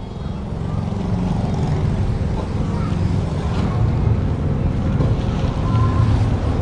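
A Takyo petrol-engine banana and grass chopper with a 5.5 HP motor runs nearby at a steady, loud drone. The rumble is broadband and constant throughout, with no talking.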